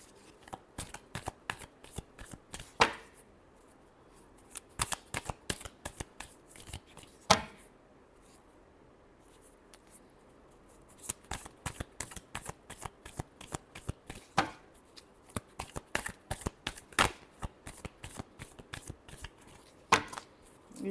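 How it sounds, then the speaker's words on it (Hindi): Tarot cards are shuffled by hand over and over, producing quick, crisp riffling bursts and flutters in an uneven rhythm, close up with no voices. "last shuffle"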